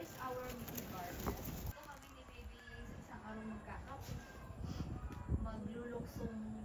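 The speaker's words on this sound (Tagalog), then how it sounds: "kabayo." Horse hooves clip-clop at a steady trotting rhythm while people chat and laugh nearby.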